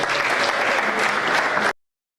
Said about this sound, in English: Please let's give us a round of applause.